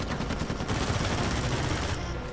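Rapid automatic fire from an overpowered gun in Uncharted 4: A Thief's End rattles on continuously and loud, a dense stream of shots with no talking.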